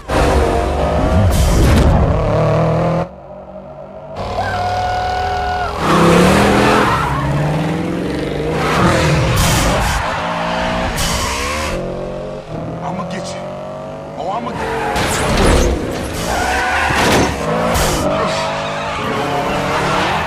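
Street race cars skid and squeal their tires in a scene from 2 Fast 2 Furious, with loud engines roaring throughout and music and voices mixed in over the whole stretch.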